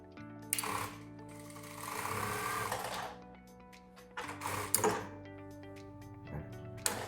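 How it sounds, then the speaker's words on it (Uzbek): An A9200 fully automatic lockstitch sewing machine runs a straight stitch in short whirring bursts: one long run, a quick second burst and a brief final spurt, each close and clear with no talking. "Shu holatda qanaqa tikadi mashinkamiz?"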